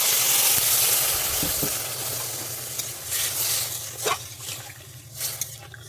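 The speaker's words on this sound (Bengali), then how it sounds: "এরপরে আমি জল দিয়ে দিচ্ছি" Water poured into a hot pan of frying fish eggs with salt, a loud hissing sizzle that settles into a steady simmering crackle with a few soft stirring knocks, close and without talk.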